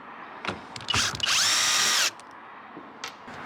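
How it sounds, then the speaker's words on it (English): Power drill boring a 10mm hole underneath on a sailing boat: a couple of short bursts and then one sustained, loud whine of nearly a second that stops abruptly, close to the listener. "So I've been drilling out this hole underneath here to 10mm."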